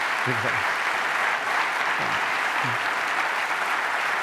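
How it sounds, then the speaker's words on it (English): Live audience applause at an onstage interview event: a steady, full wash of clapping that runs the whole stretch, with a few brief voice fragments surfacing low beneath it. "Big round of applause."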